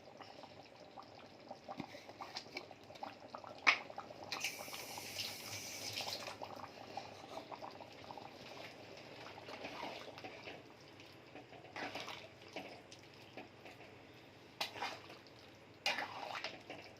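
Paneer butter masala gravy comes to a boil in a kadai, producing faint, soft bubbling and gurgling with a few louder blips and bursts scattered throughout.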